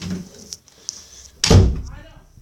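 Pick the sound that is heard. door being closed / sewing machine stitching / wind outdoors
door being closed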